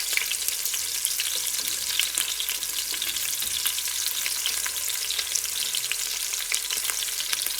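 Onions and leek fry in a pan for carrot soup, giving a steady, close hiss and crackle of sizzling with no talking.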